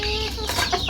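Red junglefowl chickens kept in a backyard pen give a short burst of close clucking, a couple of quick throaty notes in under a second, with no talking.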